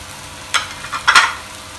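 A spoon works grated boiled potato into spices in a pan with a few soft scraping and stirring strokes. A faint background hiss lies under the strokes.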